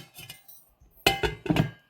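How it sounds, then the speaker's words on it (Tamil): A lid settles onto a pot of eggplant curry with a couple of clinking metal-and-glass knocks, close by, after a few quieter clatters. "இப்போ நாங்கள் மூடி விடுவோம்,"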